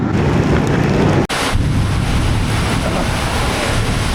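Storm wind buffets a rider on a Royal Enfield Guerrilla 450 motorcycle during a solo ride through storms and rain, a loud continuous roar of wind noise broken by one brief dropout.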